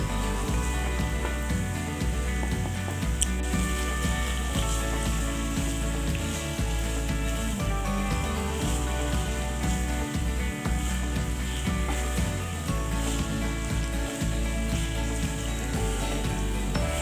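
Dried fish sautéing in a pan makes a loud, continuous sizzle close by, with the scrape and rustle of stirring throughout and no voices.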